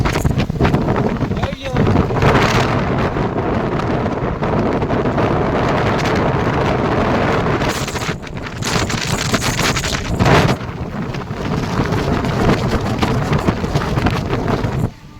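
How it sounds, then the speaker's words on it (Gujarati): Strong wind roars into a phone microphone outdoors near a train route, producing loud, continuous buffeting rumble and gusts that go on for the whole stretch, with voices barely coming through. "આટલો હવા ઘા કરે."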